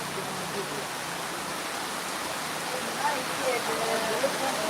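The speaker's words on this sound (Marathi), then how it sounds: "हा एवढ्या मोठ्या प्रमाणात पाऊस सुरू आहे" Very heavy cloudburst-like rain pours down steadily in a broad, dense hiss that barely changes, close and continuous with no voices.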